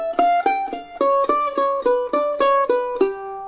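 A melodic instrument plays the opening phrase of the fiddle tune Garfield's Blackberry Blossom, a steady run of about a dozen clearly plucked notes, close and bright, ending on a held note.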